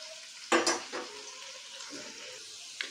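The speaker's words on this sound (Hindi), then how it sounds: "अब इसमें डालेंगे हम एक मीडियम साइज़ की कटी हुई प्याज और इसे हम डार्क ब्राउन कर लेंगे।" A medium chopped onion is dropped into half a cup of hot oil in a wok, giving a sudden loud sizzle and stirring clatter that settles into a quieter frying hiss, with a faint utensil tap near the end.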